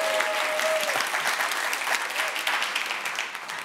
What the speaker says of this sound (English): Round of applause for the people in the blue shirts!